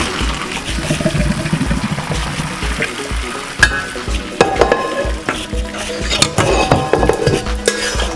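Cooked pasta tossed into a hot frying pan with salmon, loud sizzling and frying with clattering pan and utensil knocks in an irregular rhythm, close up, no talking.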